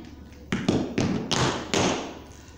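Tap dance shoes strike the floor in a series of loud, crisp heel taps and thumps, about six hits in an uneven rhythm, close and alone without talk.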